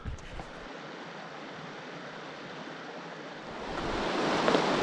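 River water flowing in a steady, broad rush that swells slightly louder toward the end, heard alone with no voices over it.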